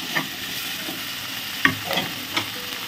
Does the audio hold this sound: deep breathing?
no